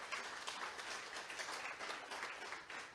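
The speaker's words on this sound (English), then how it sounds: "let's give a great round of applause to the Des Moines Community Playhouse" Dense crowd applause at the 2022 Iowa Women's Hall of Fame ceremony, a steady wash of many hands clapping at moderate loudness for three seconds, with no voices over it.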